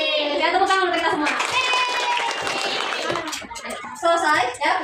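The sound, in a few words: class applauding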